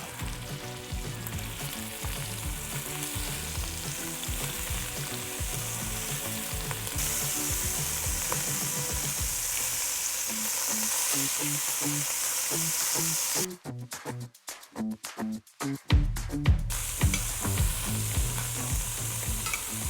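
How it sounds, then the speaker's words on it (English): Meat sears in hot oil in a pan, giving a loud, steady sizzle that drops briefly into a few choppy bursts and gaps before the frying roar returns. "I'm just gonna sear the meat"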